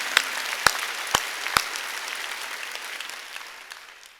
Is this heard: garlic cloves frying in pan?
no